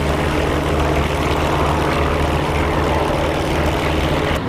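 P-47 Thunderbolt propeller engine in the DCS World flight game, a loud, steady, close droning roar with a deep throbbing low hum holding constant throughout, no voices.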